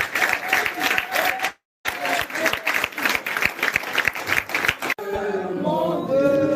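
A church congregation in Paris applauds loudly and rhythmically in praise of the Lord, with dense clapping broken by a brief silent gap, then giving way to voices singing and cheering at the end.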